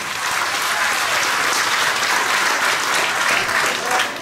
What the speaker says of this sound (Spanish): También un fuerte aplauso para el Turicentro Río Sumpul.